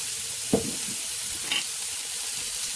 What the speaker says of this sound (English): we're going to throw a little bit more oil in the pan over on this side